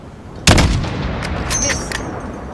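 A single loud sniper rifle shot rings out in Call of Duty: Modern Warfare, a sharp crack with a booming tail that lingers and rolls for about two seconds at a windy firing range.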